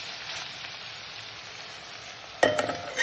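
Ivy gourd cooking down in a pan on the stove for chutney, giving a steady soft sizzle and hiss that runs throughout, broken near the end by a few sharp clinks of a utensil against the pan.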